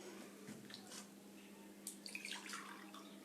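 Water being poured into an empty drinking glass for a classroom science trick, a faint, light splashing and trickling with small drip-like plinks, close by and heard alone.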